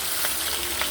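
Porgy fish frying in hot oil for Jamaican escovitch fish, a steady broadband sizzle with small crackling pops, close and continuous, with no voices.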